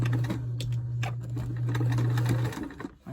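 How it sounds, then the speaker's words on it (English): A sewing machine stitching around the top of a counted cross stitch stocking at a 5/8 inch seam, its motor humming steadily with a rapid needle clatter before slowing and stopping near the end. "I'm going to sew around the top of the stocking"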